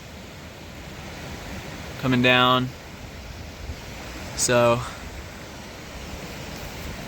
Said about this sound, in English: We got to come up right alongside this creek.